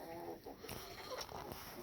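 Farm birds, chickens by the sound of it, cluck and call outdoors during a snowstorm in Atlantic Canada, short faint cries scattered over a steady outdoor background.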